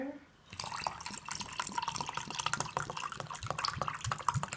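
Plain water pours from a container into a shaker for a cookies-and-cream protein shake, a close trickling, dripping stream of small splashes filling the vessel, with quiet speech nearby.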